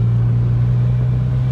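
Ferrari Portofino accelerating hard from about 75 km/h in top gear, with the exhaust valve opening: a steady, loud, close engine drone with a strong low rumble, heard alone for a second and a half.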